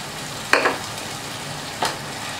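Tomato puree goes into a frying pan for a prawn malai curry, a low steady sizzle broken by two brief scraping stirs.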